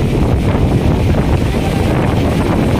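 Strong wind sweeps through trees before a rainstorm in Manila, a loud, unbroken roar pressing hard on the microphone.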